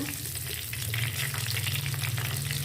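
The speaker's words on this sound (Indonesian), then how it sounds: "Sekarang lanjut kita menggoreng ampela rebusnya ya." Boiled chicken gizzards fry in hot oil with a dense, steady sizzle and crackle, close and continuous, stirred now and then, with no talking.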